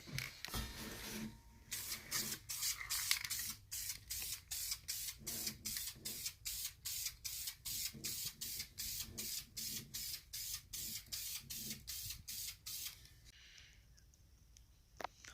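An aerosol can sprays wrinkle paint onto engine valve covers in a long run of short, evenly timed hissing bursts, close up and fairly quiet, before the spraying stops near the end.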